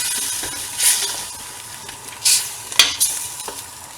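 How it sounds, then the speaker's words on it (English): A spoon stirs banga soup, made from palm kernel extract with pepper soup spices, in a pot. It gives a few distinct scraping strokes against a low, steady background hiss. "And you stir."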